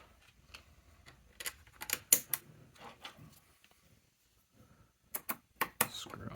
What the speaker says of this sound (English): Screw them in.